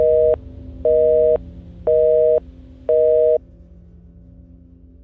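A telephone busy tone after a call is cut off: four evenly spaced loud beeps about once per second, then silence with faint line hum, in a haunted telephone booth horror story.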